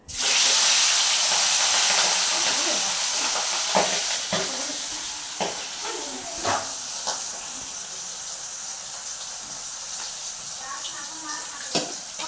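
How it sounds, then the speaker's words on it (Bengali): Magur catfish frying in a hot pan of oil, a loud continuous sizzle and hiss from the start with scattered sharp pops and spits, fading slightly over time. "মাছটা ভাজবো তাই খুব ফাটবে"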